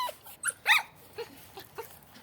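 A toy poodle whimpers in a few short, high yelps and whines, close and fairly quiet, separated by brief pauses.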